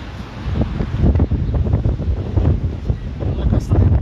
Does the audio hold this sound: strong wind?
yes